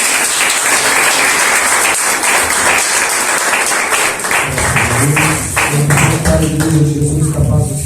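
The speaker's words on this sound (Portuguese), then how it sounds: "Você, Senhor, irmão, faz palmas bem abertas." A church congregation claps together in a fast, even rhythm, loud and close, while a voice speaks or sings over the clapping and a musical tone rises toward the end.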